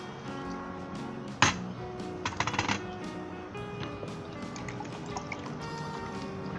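Water poured into a glass while making falsa fruit juice, a splashing fill with drips and trickles, close and fairly quiet over light background noise.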